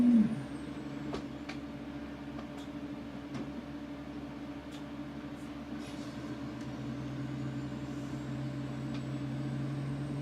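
Heavy truck engine towing a trailer, steady low drone held throughout and rising slightly as it downshifts to crawl slowly, with faint brake and mechanical clicks, no talk.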